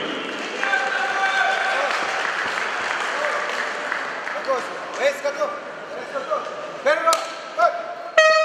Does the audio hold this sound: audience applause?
yes